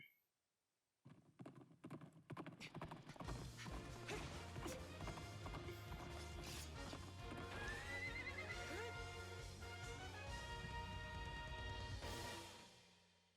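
A horse neighs loudly amid rapid clip-clopping hooves and dense sound effects in the video game Hyrule Warriors, with a voice talking over the busy mix.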